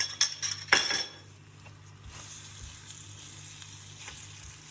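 Fifty grams of butter goes into melted, caramelizing sugar in a pan for trileçe. A few sharp clinks open the sound, then a soft, steady sizzle continues quietly on its own.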